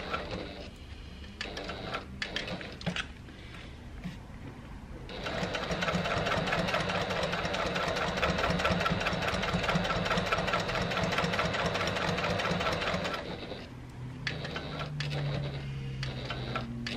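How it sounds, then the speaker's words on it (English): A Janome HD9 sewing machine runs steadily for about eight seconds, top stitching around a small wallet, its fast rhythmic needle clatter close and loud, with quieter handling noises before and after. "I'm just going to top stitch around an eighth of an inch"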